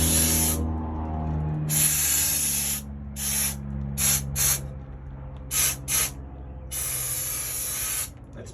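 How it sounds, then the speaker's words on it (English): A spray foam gun, not yet purged, spits leftover cleaner onto the steel wall of an enclosed trailer being converted to a camper, in loud hissing bursts: two long sprays, then several short puffs and a final long spray. "I forgot to purge the gun, so I sprayed cleaner on the wall"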